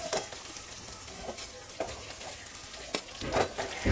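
Chicken pieces frying over a high flame in a pan, a steady crackling sizzle with occasional scraping stirs of a ladle, close and moderately loud, with no talk.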